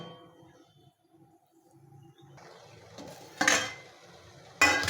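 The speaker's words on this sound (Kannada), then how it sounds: "ಸುಮ್ಮನೆ ಒಂದು ಮುಚ್ಚಳ ಮುಚ್ಚಣ ಇದಕ್ಕೆ" A metal lid clanks down onto a cooking pot of palak greens, two sharp clatters near the end following quieter kitchen handling sounds.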